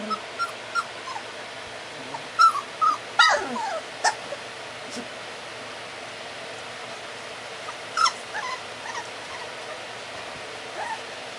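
A litter of three-and-a-half-week-old puppies whimpers and yips in short, scattered bursts, with a few louder yelps clustered near the start and one more several seconds later, over a quiet background.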